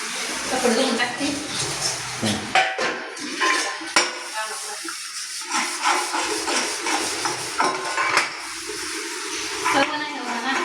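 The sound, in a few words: dishes and pots being washed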